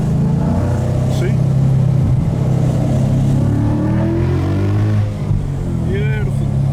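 Tuned 2017 Ford Mustang GT in traffic, a loud steady engine drone that swells and rises in pitch as the throttle opens, close up, with brief speech mixed in.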